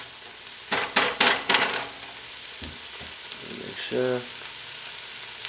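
Vegan beef crumbles sizzle and fry in a pan, with bursts of stirring and scraping, then a brief spoken phrase over the steady frying.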